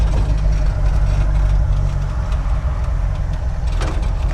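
A 1931 classic car fitted with a modern engine idles steadily up close, a loud, even low rumble running throughout with no talk over it.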